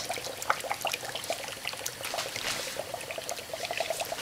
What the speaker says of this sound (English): This is air coming out of the yarn.